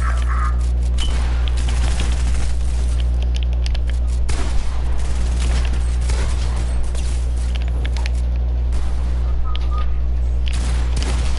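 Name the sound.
gunfire in a video game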